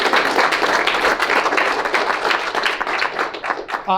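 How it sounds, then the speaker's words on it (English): A crowd at a motivational talk applauds itself, many hands clapping loudly and continuously in a thick burst that fluctuates a little before fading near the end. "So again, one more time, give yourselves a huge round of applause."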